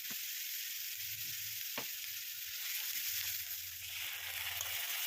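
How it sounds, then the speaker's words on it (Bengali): Black cumin, chopped ginger, onion paste, salt and turmeric sizzle steadily in hot oil for mustard pabda fish, a constant bright hiss with a few soft stirring knocks, close and alone. "তারপর তেলে কালো জিরে, সামান্য আদা কুচি, পেঁয়াজ বাটা, নুন হলুদ দিয়ে একটু কষিয়ে"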